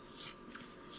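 Scissors trimming cloth pad fabric, a couple of soft, close snipping rasps about a second apart over a faint steady background hiss.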